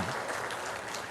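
A church congregation at a Sunday service applauds. The clapping is a brief, dense, moderately distant patter.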